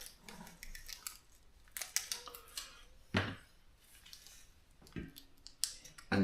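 Scissors snip away excess tubeless rim tape on a bicycle wheel, giving a series of close, crisp cuts and crinkly plastic rustles at an irregular pace with no talk.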